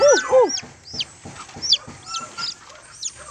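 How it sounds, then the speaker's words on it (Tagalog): A Rhode Island hen sitting on a clutch of eggs gives a string of short, close clucks and a few higher squawking calls, repeated roughly every half second. "Yung isa kong Rhode Island, talagang naglilimlim siya."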